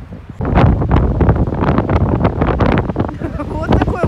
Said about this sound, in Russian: Вот такой вот ветер здесь,